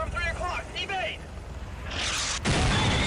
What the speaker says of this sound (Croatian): Znači srušili su nas pre nego što smo sleteli.